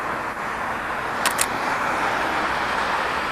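A car passes on a street, a steady broadband road rush that stays loud throughout, with a couple of faint metallic ticks partway through and no talk.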